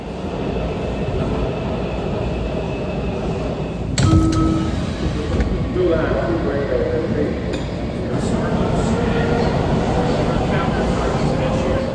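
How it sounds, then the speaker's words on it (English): A Washington Metro Blue Line train runs on tracks shared with the Green Line, a steady loud rumble of wheels and car noise with a sharp clunk around four seconds and squealing tones, continuous throughout. "I was on a Blue Line train sharing tracks with the Green Line"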